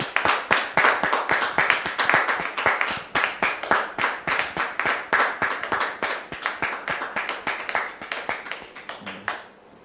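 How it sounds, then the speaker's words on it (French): An audience claps to welcome a guest's son onto a French-language stage show, a steady stream of sharp, close hand claps that keeps going for about ten seconds and thins out toward the end. "Merci de le recevoir sous vos applaudissements"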